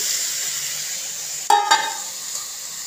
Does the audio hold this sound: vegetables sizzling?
yes